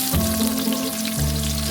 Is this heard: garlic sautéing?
yes